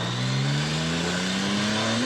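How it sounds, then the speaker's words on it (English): A Yamaha R9 sport motorcycle revs and accelerates through quick-shifter gear changes, the engine note climbing steadily, loud and close, with no voices. "And the quick shifter up and down, yeah."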